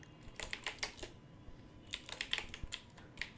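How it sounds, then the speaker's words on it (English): Typing a title on a computer keyboard, soft close keystrokes in two quick bursts separated by a short pause, quiet and with no voices. "in title I just simply type"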